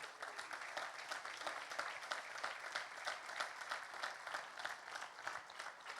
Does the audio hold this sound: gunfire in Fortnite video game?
no